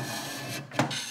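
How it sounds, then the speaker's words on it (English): A hand scraper shaves material from a wooden workpiece on a luthier's uniplane while truing archtop guitar parts, giving a short, close rasping scrape under a steady mechanical hum. "So I'm going to go back in here with the scraper and try and take off some material"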